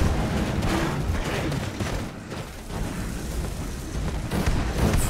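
Fire spell striking a troll in Skyrim: a sustained, dense roaring burst of flame and impact noise, loud and continuous with a brief dip midway, no talk over it.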